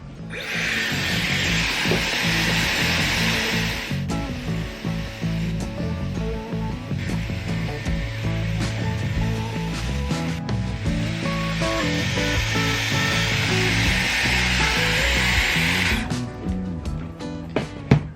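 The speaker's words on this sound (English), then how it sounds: "I'm just going to enjoy my coffee and really quickly dry my hair" A hand-held hair dryer blows hair dry with a loud, steady whoosh, cutting out briefly a few times and restarting, then switching off near the end.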